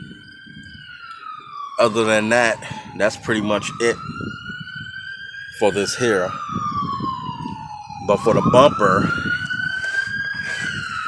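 Police sirens wail outside during rear bumper and tank removal on a 1965 Impala, their slow rising and falling tones sounding steadily while someone talks over them.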